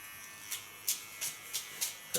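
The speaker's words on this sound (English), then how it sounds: "Take a small clipper, clean the contour line." A small hair clipper trims along the contour line of an ultra short cut, giving a steady near buzz with several brief louder strokes as it touches the hairline.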